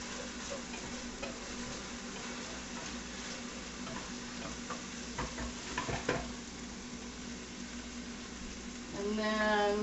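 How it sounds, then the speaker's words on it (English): Onions and garlic sizzle in butter in a pan while being cooked for mandarin chicken, a low steady frying hiss with scraping stirring strokes in the middle and a louder burst at the end. "we're gonna stir these onions up and the garlic in the butter"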